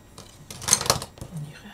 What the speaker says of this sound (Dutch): Papiertjes er even af.